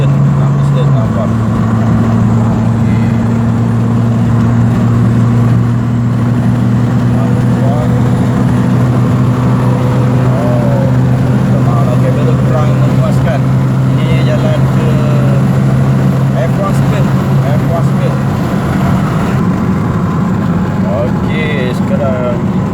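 A BMW E90 with a 2.5-litre six-cylinder engine and dual valve exhaust drones steadily while driving, its low exhaust note holding an even pitch that shifts slightly early on and fades near the end, with a voice speaking at times over it.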